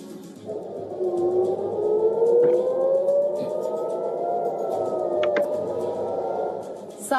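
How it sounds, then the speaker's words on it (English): Civil defense air raid sirens sounding over Tel Aviv and central Israel at night to warn of incoming Iranian missile strikes, a long, rising and slowly wavering wail carried at a distance with steady loudness and faint background noise. "Sirens sounded across Tel Aviv and central Israel and Jerusalem several times overnight on Wednesday as a warning of incoming Iranian strikes"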